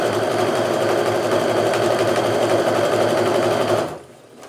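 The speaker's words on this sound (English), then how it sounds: "So you just sew along" A sewing machine sews Kaffe Fassett jelly roll quilt pieces together without pins, a close, continuous fast mechanical hum that runs evenly for about four seconds and then stops abruptly.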